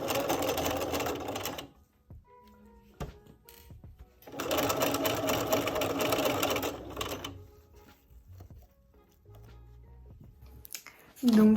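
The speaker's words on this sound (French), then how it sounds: "Je vais maintenant coudre le col avec." A domestic sewing machine stitches the collar of an evening dress in two loud, fast, steady bursts, separated by quieter handling and fabric rustling.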